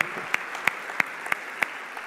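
A church congregation applauds together, with sharp, evenly spaced claps standing out from a softer bed of clapping at a steady, rhythmic pace.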